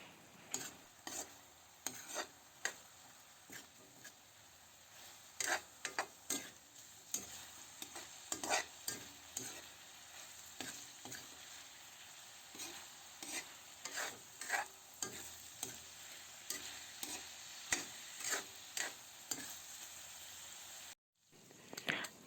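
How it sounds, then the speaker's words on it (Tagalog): Dinuguan, a thick pork blood stew, stirred in an uncovered pot, with steady scraping strokes of a spoon against the metal over a soft bubbling simmer. The strokes come in irregular bursts for most of the stretch, with no voices. "alisin natin ang takip at haluin natin"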